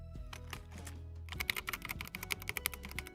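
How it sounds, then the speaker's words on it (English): Keys clacking on an old mechanical computer keyboard held up close, a quick run of sharp, bright clicks following a few softer taps. "It just kind of sounds like a normal keyboard, right?"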